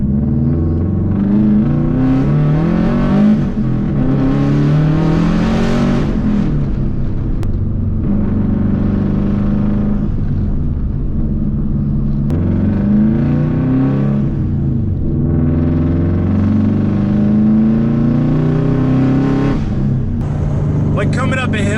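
A Subaru before its power modifications labours up a hill, probably in fifth gear, with a steady engine drone and rumble from inside the cabin. Talk runs over it throughout.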